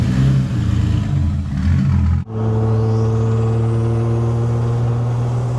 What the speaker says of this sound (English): Definitely hear the turbo